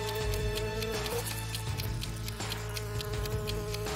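A steady, dense buzzing of bees hums continuously and fairly loud, a layered drone with flickering wingbeat texture running throughout with no voices, set at a pond with flowers in an animated puzzle.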